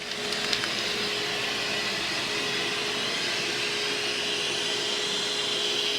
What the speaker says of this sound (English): vacuum's on, the booth is sucking the fumes in.